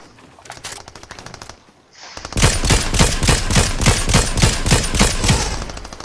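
Video game gunfire, a fast automatic burst of evenly spaced loud shots that follows a quieter stretch of lighter shooting, with no voices.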